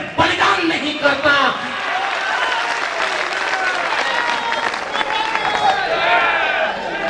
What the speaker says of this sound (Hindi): तालियों को रोक कर रखें, सारी तालियों को सहेज कर रखें